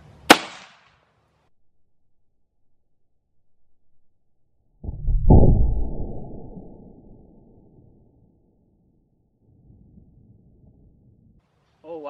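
A gun fired through a pillow into a watermelon gives one short sharp pop at the start, then a deeper muffled thump a few seconds later, with near silence between.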